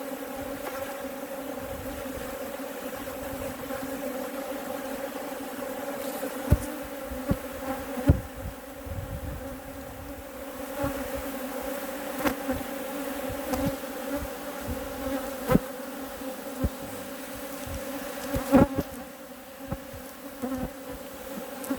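A decent-sized honeybee swarm that has settled into an empty brood box gives off a steady, dense buzz throughout, close and even, with faint knocks and taps here and there.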